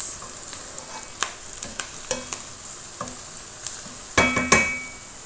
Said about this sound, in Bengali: হালকা একটু ভেজে নিলাম। মরিচের সাথে তেজপাতার সাথে পেঁয়াজ।